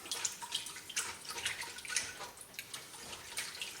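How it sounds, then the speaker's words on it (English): Chicken broth pours into a cooking pot in a steady, continuous liquid splash with faint trickling, close and fairly quiet, with no talking. "I'm going to use another cup of the chicken broth."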